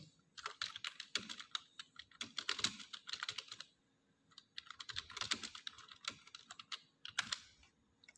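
Someone types on a computer keyboard, entering a thank-you message in a Microsoft Forms quiz, with rapid bursts of quiet clicks separated by a short pause, close and soft with no voices.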